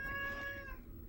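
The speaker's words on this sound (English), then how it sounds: "Sorry, that's my cat." A pet cat gives a single short meow close to the microphone, a brief tonal cry fading quickly in a quiet room.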